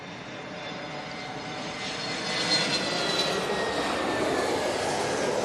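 An Airbus A321neo arriving from Venice lands at London Heathrow, its whining jet engines growing louder midway and sustaining a bright, rushing roar with a high tonal hum, no voices heard.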